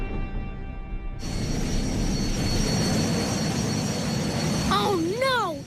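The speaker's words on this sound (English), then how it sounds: "Oh, no! Look at that big jet!" A big jet roars in a Little Einsteins cartoon scene, a loud, broad rushing drone that kicks in abruptly and holds steady, ending with wavering, swooping tones layered over it.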